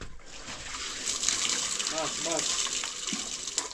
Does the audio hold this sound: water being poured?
yes